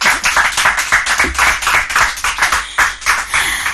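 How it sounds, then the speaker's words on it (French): Studio audience applause during a French quiz show, dense clapping at steady volume with a slight pulsing swell throughout. "On va quand même applaudir."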